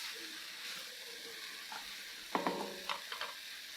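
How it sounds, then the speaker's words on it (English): Smoked ham hocks dropped into a hot pot for butter beans, sizzling steadily with a few sharp crackles and clunks as they settle and are stirred, close and fairly quiet, no talking. "we're going to add in our smoked ham hocks"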